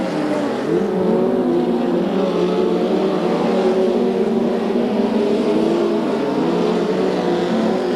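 USAC midget race cars racing on a track: a dense, continuous engine roar with several overlapping motors droning steadily, loud and unbroken for the whole stretch.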